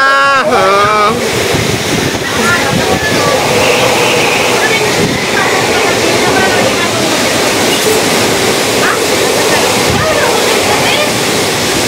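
Whirlwind gusts of Typhoon Uwan roar over an island village in Barangay Bani, Lavezares, Northern Samar, a loud, relentless, buffeting rush of wind and rain that never lets up, with voices calling out briefly at the start.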